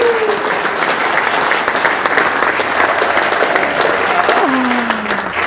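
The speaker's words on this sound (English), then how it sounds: "A nice round of applause." A business meeting audience breaks into a loud, sustained round of applause, dense and even throughout, with some voices mixed into the clapping.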